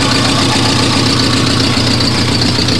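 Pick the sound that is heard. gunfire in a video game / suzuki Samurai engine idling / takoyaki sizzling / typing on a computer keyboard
suzuki Samurai engine idling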